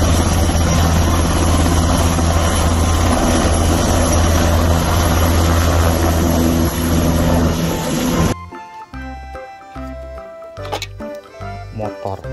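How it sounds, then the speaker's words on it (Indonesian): A toy helicopter whirs with a steady, loud buzzing drone for about eight seconds, then cuts off abruptly, leaving quieter clicks and a voice speaking. "Helikopter berwarna abu, berwarna hijau."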